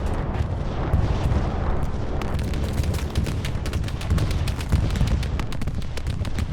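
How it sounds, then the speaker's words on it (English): Bombs going off in the Hell Let Loose war game, a continuous roar of heavy rumbling blasts and crackling gunfire layered thick for several seconds, loud and dense with no pause. "Or bombs going off"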